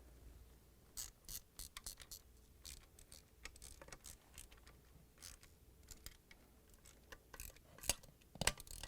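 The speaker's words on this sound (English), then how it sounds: "now we're going to tighten it with 5/16 socket wrench" 5/16 socket wrench ratcheting while tightening screws on a Whirlpool washer gear case, heard as quiet, irregular clicks and short ratchet bursts spread through the clip, with no talking.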